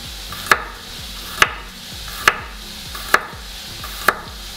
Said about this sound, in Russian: Зубчик чеснока нарезаем слайсами.